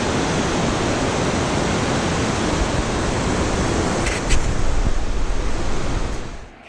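A mountain waterfall on the Hooker Valley Track in New Zealand roars as a dense, steady rush of falling water, loud and continuous, then fades out at the very end.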